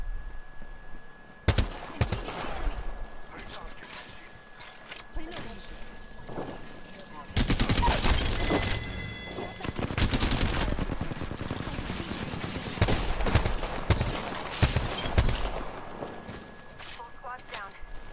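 Bursts of automatic gunfire and single shots from the Apex Legends video game, clustered in loud volleys between quieter stretches, with a player talking over the action.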